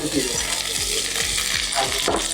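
Garlic, ginger and green chilli fry in sunflower oil with a loud, dense sizzle, while a spoon scrapes and stirs the pan in quick repeated strokes, close up.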